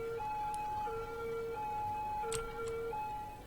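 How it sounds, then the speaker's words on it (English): An ambulance siren in the city-building game Cities Skylines, a faint repeating two-tone wail cycling a few times alone with no talking. "There's important ambulance doing ambulance-y things."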